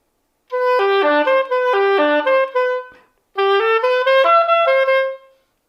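Solo oboe plays measure 12 of a TMEA etude, two clean phrases of connected reedy notes separated by a short breath pause, close and clear with no talk.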